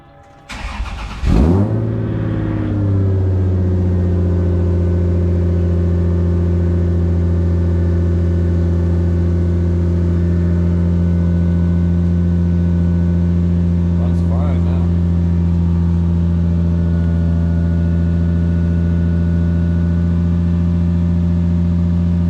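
A Lexus SC300 engine with a misfire cranks and catches, then settles into a loud, steady idle that drones on close by for the rest of the clip.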